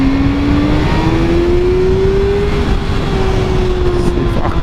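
A Kawasaki ZX6R sport motorcycle engine revving high and steadily climbing in pitch while riding on a dried-out road, loud and close with heavy wind rush throughout.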